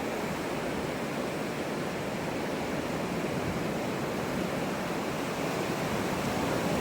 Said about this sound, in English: Big waves are coming.